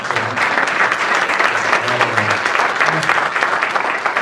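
An audience bursts into sustained applause at a community event, dense, even clapping from many hands held at a steady level throughout, with a few voices murmuring underneath.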